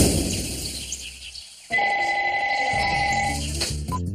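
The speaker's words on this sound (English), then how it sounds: "Later on, Jen got a phone call from Bryce." A telephone rings in a family home, a sustained electronic ring that starts abruptly after a brief silence and carries on for a couple of seconds.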